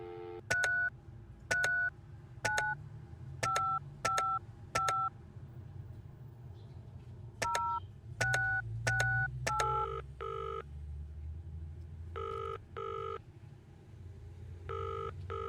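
Telephone number dialing tones from the Penelope Pendrick detective video game, a run of short, clear keypad beeps in quick clusters with pauses between them, loud over a low background hum.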